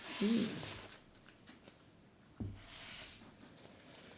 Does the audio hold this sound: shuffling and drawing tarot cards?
yes